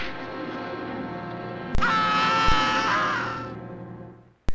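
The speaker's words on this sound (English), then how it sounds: "And this is just with a stock scream sound effect I added." A stock scream effect for a villain falling in a Sherlock Holmes scene: one long sustained wail, loud and steady, rising slightly midway, then fading out, with a few sharp clicks.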